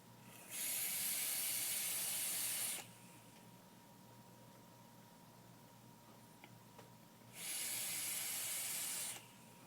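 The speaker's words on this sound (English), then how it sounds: "I want to show you how this thing vapes" A stainless MC mod vape topped with a Plumeveil V2 atomizer and a chuff cap fires twice, each firing a steady, bright vapor hiss lasting a couple of seconds, with quiet gaps between and no talking.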